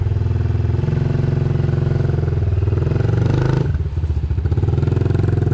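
A motorcycle engine close by throbs and pulls up in revs under a little throttle, a loud pulsing drone that dips briefly before settling back to a steady chug, with no talk.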